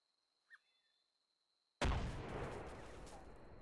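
Video game gunfire: one faint pop early on, then a sudden loud blast followed by a long rumbling, crackling decay that fades slowly.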